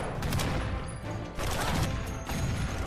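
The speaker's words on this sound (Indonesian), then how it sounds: "Aksi baku tembak pun terjadi dan berlangsung sangat luar biasa." Dense gunfire fills an airport shootout in an action film, a continuous barrage of shots and crashes with bursts swelling loud throughout, no voices audible.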